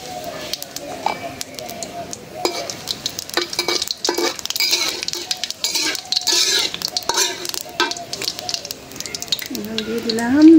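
Cumin seeds with bay leaf and dried chilli sizzling and frying in hot oil for an eggplant curry, with steady stirring and pan clatter throughout and brief bursts of a nearby voice.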